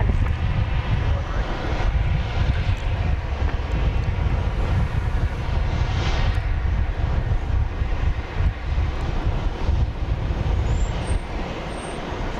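A jet airplane at Dallas Love Field runs its engines while waiting to take off, a loud, steady broadband roar that holds evenly throughout, with no voices over it.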